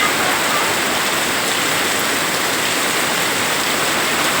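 Heavy rain pours down in a steady, dense hiss that holds at the same loud level throughout, with no breaks or separate drops standing out.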